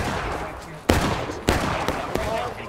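Gunfire in a war video game: several sharp, loud shots crack at irregular intervals over a steady battlefield noise bed.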